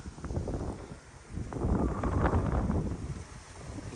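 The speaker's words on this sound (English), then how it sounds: "as you can see, it's a little windy" Wind gusting across an open outdoor lawn, a steady broadband rush that swells louder midway and stays fairly strong to the end, with no talking.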